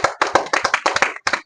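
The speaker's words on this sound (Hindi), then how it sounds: "ताली बजाइए।" Children in a classroom quiz clap their hands together in several quick bursts of claps, close and lively, with a brief pause before a final short round.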